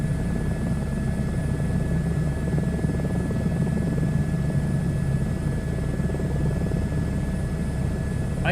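An agricultural sprayer helicopter flying in a flight simulator game drones continuously with a steady rotor and engine hum, loud and unbroken throughout, with no one talking.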